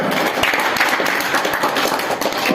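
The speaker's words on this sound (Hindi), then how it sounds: "इसी के साथ सभी एक बार जोर से तालियां।" An audience clapping at a gathering after a speech ends, a dense, steady wash of many hands applauding together for a couple of seconds, moderately loud and even, with no voices on top.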